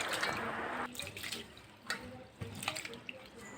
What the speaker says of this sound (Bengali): তাই চাল ধুয়ে এবার চলো জল ঝরতে দিয়ে দিই।